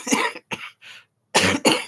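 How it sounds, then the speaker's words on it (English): A woman coughs several times in short bursts, close and loud, with brief pauses between the harsh hacks. "I've been dealing with this cough"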